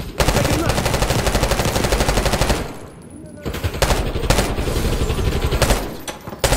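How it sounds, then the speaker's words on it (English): Rapid machine gun fire in the Call of Duty: Black Ops 6 video game, long loud bursts of shots with a brief pause before more short volleys, close and dominant. "Return fire"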